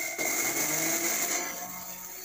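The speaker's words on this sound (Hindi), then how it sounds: "राई के बाद सौंफ को पीस लेंगे।" An electric spice grinder pulverizing fennel seeds for stuffed green chilli pickle, a loud steady motor whir that runs continuously and eases slightly toward the end, with no voices.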